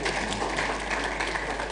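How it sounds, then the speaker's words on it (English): Brief, even clapping fills a conference hall as the audience gives itself a round of applause after a panel discussion, steady throughout with no talk over it. "And another round of applause for yourselves."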